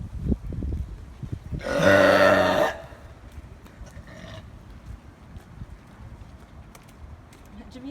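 A loud, drawn-out belch from a person in public, about a second long and tonal, rising over a noisy outdoor background with scattered thumps and clatter.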